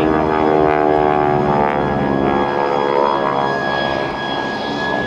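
GEICO Skytypers propeller aircraft roar overhead in formation at a military open house airshow, a loud, steady engine drone with a slowly shifting pitch, no voices.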